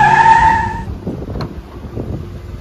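A vehicle arrives close by: a short steady horn-like tone, then a low engine rumble with light tyre and road noise.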